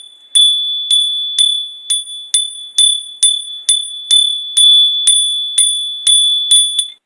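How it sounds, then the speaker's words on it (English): Bright, ringing bell struck over and over in quick, fairly even succession, about fifteen sharp strikes with a clear sustained tone, loud and close with nothing else heard. "Let me hit the bell so I can make sure everything's all purified."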